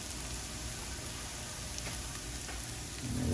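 Garlic frying in a pan for stuffed peppers: a steady, soft sizzle with fine crackling throughout, swelling slightly near the end.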